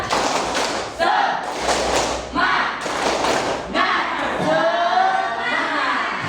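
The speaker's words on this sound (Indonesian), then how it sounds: "Tepuk semangat." A school class of eighth graders performs a rhythmic spirit clap, loud bursts of group clapping and thumping in a steady pattern with children chanting and shouting along, close and energetic.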